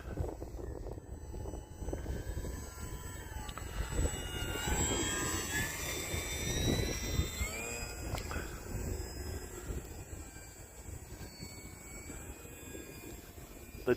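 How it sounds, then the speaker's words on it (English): A Tundra RC model airplane flies over snow within about fifty feet, its electric motor whining in a steady buzz that rises and falls in pitch as it passes, fairly loud and continuous throughout. "The Tundra, it's been surprisingly really good airplane."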